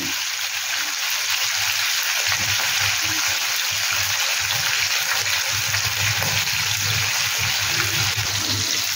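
Hilsa fish pieces frying in hot oil, a broad, steady sizzle with constant crackling that stays loud and even from start to finish, with no voices.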